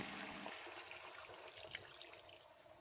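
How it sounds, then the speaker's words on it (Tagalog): Water pours into a cooking pot holding sliced milkfish and pork with vinegar, a brief steady splashing rush that shifts partway through into a quieter trickle, heard close and alone. "At syempre, lagyan ito ng sapat na tubig."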